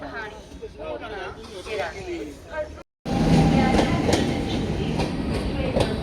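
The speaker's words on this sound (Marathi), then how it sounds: "आता आमची ट्रेन आलेली आहे" A train bound for Mumbai pulls into a station, a loud rumbling clatter of wheels and carriages rising close by after a short silence, with people talking before it arrives.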